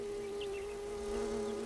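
Insects buzzing around flowers, a steady nearby drone with a constant pitch and a faint higher hum over soft background noise.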